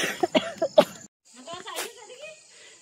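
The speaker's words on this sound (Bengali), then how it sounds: "কথা বলবো কি, কাশি পাচ্ছে।" A person coughs in a quick series of four sharp, close coughs, followed by a short pause and then throaty, breathy vocal sounds.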